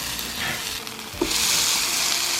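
Blueberry pancakes sizzle and fry in a pan with a steady close hiss that swells louder partway through, with no talk.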